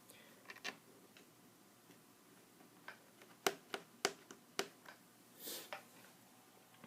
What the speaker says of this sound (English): I'm just twisting it until it's like in the same position, just spinning and spinning.